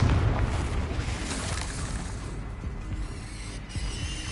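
A Confringo spell explodes in Hogwarts Legacy, starting with a loud, close fiery burst that rolls into a long rumbling decay with some crackle and mechanical rattle underneath.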